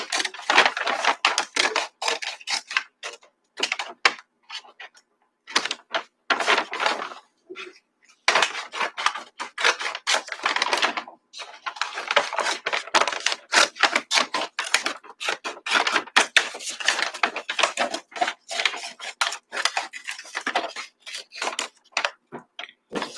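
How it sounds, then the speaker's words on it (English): Scissors cutting all the way around the bottom of a paper bag, a long series of crisp close snips and paper crackles in quick irregular bursts with a few short pauses. "We're going to cut all the way around this bottom."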